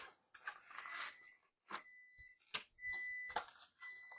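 Several sustained electronic beeps from a microwave timer sound in succession, each a steady tone, mixed with close clattering and rustling kitchen handling noises.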